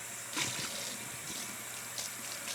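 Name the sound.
tap water running until lukewarm for sourdough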